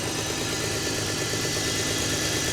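A used car at a salvage auction idles roughly and continuously close by, a steady uneven engine drone with no talking.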